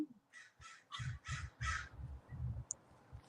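Crows cawing in a steady run of about eight hoarse calls, moderately distant and faint, with no voices over them.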